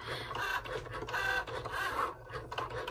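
A Cricut Joy cutting machine drawing a unicorn with a pen, its carriage motor whirring in short repeated strokes, close and steady.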